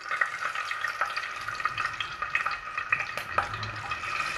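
Garlic sizzles as it fries in hot oil for a home-style khichdi, a steady close crackle broken by soft stirring scrapes, with nobody speaking.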